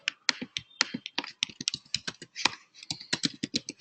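Rapid, uneven clatter of keys as code is typed on a computer keyboard, close and crisp, with short pauses between bursts and no talking.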